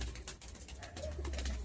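A pair of pigeons in a Bengal loft coo in soft repeated low rolls amid rustling and clattering movement, the birds close and the calls continuous.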